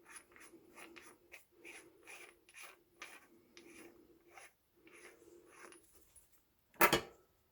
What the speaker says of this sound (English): You unscrew this bottom part.